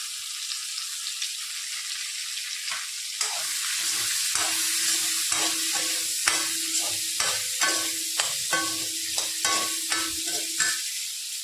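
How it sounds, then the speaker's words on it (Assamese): Chopped onions frying in a pan with dried garlic and chilli, a loud steady sizzle under repeated rhythmic scraping strokes of a spatula stirring, close up and without voices. "এতিয়া মই কাটি লোৱা পিঁয়াজখিনি ধুনীয়াকৈ দি ভাজিম।"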